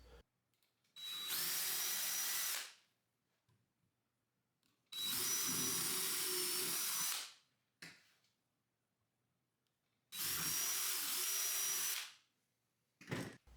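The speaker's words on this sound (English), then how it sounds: "Drill a hole on the top middle of each cross, where we'll screw in the tops." A power drill whines through wood in three long bursts of about two seconds each, separated by short pauses, close and loud.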